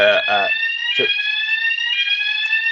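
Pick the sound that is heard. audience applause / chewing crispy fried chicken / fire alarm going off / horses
fire alarm going off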